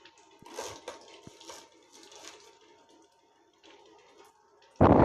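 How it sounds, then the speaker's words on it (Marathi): Thinly sliced cabbage is rinsed in water, with soft intermittent splashing and sloshing at close range, ending in a sudden loud rush of water. "आता आपण हा कोबी स्वच्छ धुवून घेणार आहोत बघा"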